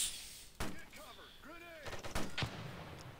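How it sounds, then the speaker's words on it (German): Gunfire in the video game America's Army Proving Grounds: a few sharp, separate shots crack out, close and loud, with voices talking between them. "Worauf schießt du?"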